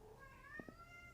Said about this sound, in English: if you hear my cats meowing in the background